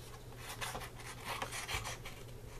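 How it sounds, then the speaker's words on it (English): Scissors snipping and rasping through paper card pieces during fussy cutting, a faint, close series of soft irregular cuts and rustles with no talking. "let's go ahead and fussy cut these out real quick"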